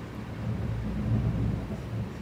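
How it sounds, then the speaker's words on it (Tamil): Thunder rumbles just behind a house during rain in Salem, a low, steady rolling roar swelling slightly in the middle, with rain hiss underneath. "வீட்டுக்கு பின்னாடியே இடி அடிக்குது."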